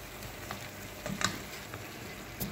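Ginger garlic paste frying in a pan for a chicken stir-fry, a soft continuous sizzle with occasional pops and spatula scrapes, faint and close.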